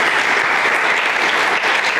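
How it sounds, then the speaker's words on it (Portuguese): Loud, dense applause from a church audience fills the whole stretch, steady and continuous from start to end with no break. "Dá um aplauso aí, mais uma vez,"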